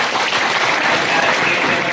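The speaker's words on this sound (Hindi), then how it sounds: "इसके लिए हम लोग उनके लिए एक जोरदार ताली बजाएं" Loud, dense applause from a gathering honoring election polling staff, greeting members of the electronic media with steady, even clapping throughout, close and unbroken.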